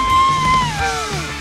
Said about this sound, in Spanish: A ver, un grito para los clásicos.